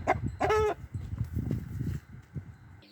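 A mother hen with chicks clucking close by in short, soft bursts, with one brief louder call near the start, amid light farmyard background noise.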